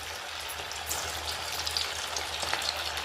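Pieces of manda frying in hot oil in a kadai, a steady close crackling sizzle with fine popping throughout, no voices.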